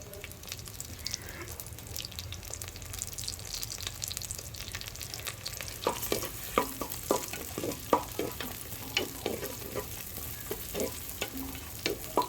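Small shallots and curry leaves sauté in a pan on a village kitchen stove, a steady close sizzle running throughout, with sharp clinks and scrapes of stirring growing frequent in the second half.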